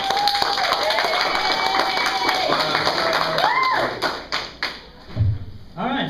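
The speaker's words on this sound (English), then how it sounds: "Everybody give Kyle a big round of applause." Audience applause for guest Kyle Hebert at an Emcon convention Q&A panel, a brisk wash of clapping with cheers that thins out toward the end, followed by a few thumps and voices.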